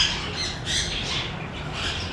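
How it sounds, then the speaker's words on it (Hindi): A sun conure parrot at a breeding setup gives loud, harsh squawks, two or three strident calls in quick succession over a noisy background, close to the listener. "ये एक सन किनौर का ये पेड़ है भाई"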